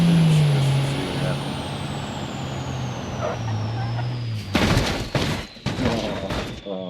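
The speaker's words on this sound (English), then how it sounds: "I want to crash this truck" A heavy 10,000-pound high-horsepower truck drives in BeamNG.drive, its engine droning under a falling whine, then smashes into something with several loud, close crunching impacts and thuds in quick succession.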